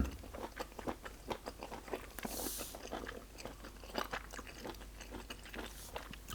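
Close-up chewing of abalone from a seafood bucket meal with shrimp and squid, soft repeated bites and wet crunching in an irregular rhythm, quiet and without talking.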